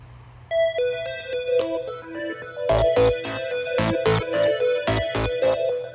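Phone ringing with a melodic ringtone, a rising run of tones followed by repeated bright chiming bursts, clear and close, no talking.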